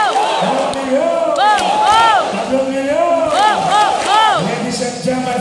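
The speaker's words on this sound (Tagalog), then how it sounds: "At palakpakan natin ang ating first na magte-testimony, 1 million!" A large crowd at an Aim Global event applauds and cheers loudly for a first testimony speaker, with whoops and shouts rising over steady clapping as a host's voice talks through the noise.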